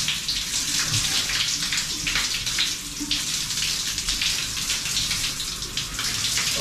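Cold water streams from a shower in a steady, hissing rush, close and even throughout with no voices.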